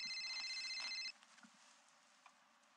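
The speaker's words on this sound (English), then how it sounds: "sometimes important phone calls come in, phone calls you've got to take." Telephone ringing in a quiet room, a brief electronic ring tone with steady high tones for about a second, then stopping and leaving faint room noise.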